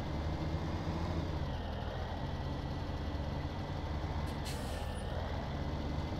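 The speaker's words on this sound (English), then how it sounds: "Brake works." An IHC/CaseIH D family tractor in Farming Simulator 17 idles with a steady engine rumble, then a short sharp hiss of air brake release cuts in briefly near the end.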